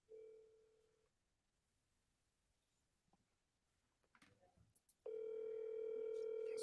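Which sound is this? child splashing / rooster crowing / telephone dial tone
telephone dial tone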